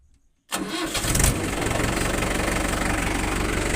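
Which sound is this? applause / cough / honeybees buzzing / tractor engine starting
tractor engine starting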